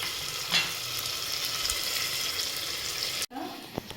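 Green chilies and onions frying in a pan of oil for mutton biryani, a constant close sizzle with faint stirring, cut off briefly near the end before a quieter crackle and a small clink.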